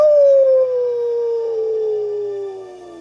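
A person's voice imitates a wolf howl, drawing out one long, loud, sliding note that falls slowly in pitch and fades a little toward the end.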